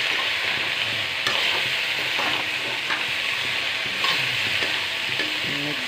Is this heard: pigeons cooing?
no